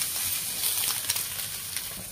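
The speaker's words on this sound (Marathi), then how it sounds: "बघू शकता तुम्ही आपलं सोयाबीन भाजत यायला लागले" Soybeans dry-roasting in a pan, a dense steady crackling sizzle that stays close and even throughout, no voices.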